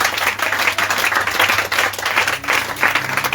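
A church congregation applauds and claps together in steady, loud, sustained rounds that swell and dip rhythmically, with no talking over the clapping.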